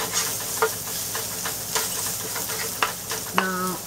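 Ginger and garlic fry in a little oil, a steady close sizzle with occasional stirring scrapes and a brief tonal clink near the end, no voices.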